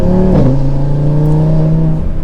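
Audi RS3 8Y five-cylinder engine with loud exhaust in sport mode, a steady, loud droning note that rises briefly early on as the car holds the gear under acceleration.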